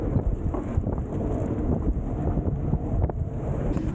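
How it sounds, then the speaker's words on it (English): Strong wind roars steadily across the microphone on a fully reefed sailboat at sea, with a dense, constant low rumble and gusty buffeting throughout and no voices. "as you can see, it was extremely windy"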